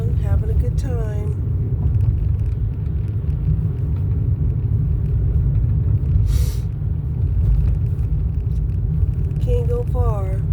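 Cabin of a moving car, a loud constant low road rumble throughout, with a few brief voice-like sounds near the start and the end.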